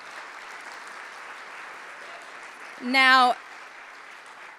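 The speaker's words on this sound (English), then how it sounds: "A big round of applause to all the staff and volunteers who are here." At a community program event, an audience applauds the staff and volunteers with soft, even clapping heard from a distance. A single brief spoken word rises over it near the end.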